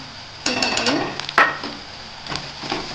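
Sautéed onion and roasted peanuts are stirred with turmeric and salt in a pan for poha, giving a few distinct clanks and scrapes of a spoon against the metal pan over a faint background.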